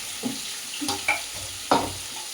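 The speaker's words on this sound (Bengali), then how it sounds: "এই যে একসাথে সব মাছ দিয়ে দিচ্ছি, আরো কয়েকটি সাথে ওটা আজকে দিয়ে ফ্রাই করবো" Fish pieces frying together in a pan for a fish masala curry, with a soft steady sizzle broken by a few sharp scraping stirs and clinks at close range.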